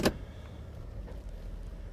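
A 1971 Mercury Marquis Brougham with a 429 V8 cranks with a sharp burst, then settles into a low, steady rumbling idle inside the car.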